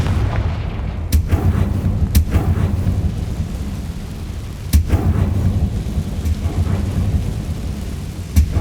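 Confringo fire spell blasts in Hogwarts Legacy, several loud booming explosions with sharp cracks spaced a second or two apart over a constant heavy rumble.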